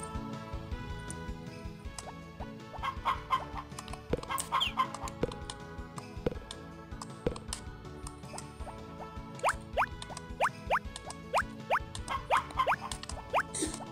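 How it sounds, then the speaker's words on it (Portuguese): Chickens clucking as they are fed on the farm in the Harvest Moon: Back to Nature video game, with repeated short bright clucks and drip-like plinks over continuous game music. "Deixa eu alimentar as galinhas por enquanto aqui."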